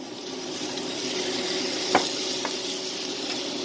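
A tomato goes into a hot frying pan for caldo tlalpeño, giving a steady close sizzle with a brief stir or clink partway through.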